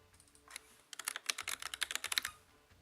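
Players at a Hellish Quart fighting-game tournament clatter on computer keyboards, a dense run of sharp, close key clicks and presses in quick irregular bursts with no talk.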